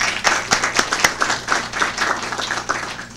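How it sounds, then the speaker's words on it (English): A small crowd at a parish government meeting gives a round of applause, with sparse, distinct claps close to the microphone over a few seconds that thin out toward the end. "So I think we ought to give Renee a round of applause"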